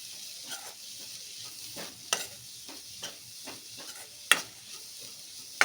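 Grated broccoli stirred in a hot pan for broccoli paratha stuffing: close, steady sizzling with repeated scraping stir strokes and a few sharper clinks, no voices.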